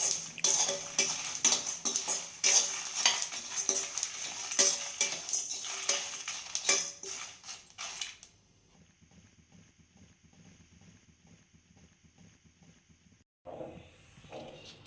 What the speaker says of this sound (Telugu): నువ్వులు, కొబ్బరి, లాస్ట్లో కొంచెం జీలకర్ర వేసి